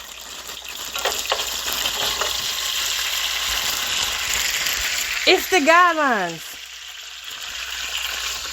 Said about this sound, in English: Y'all, I'm frying French fries.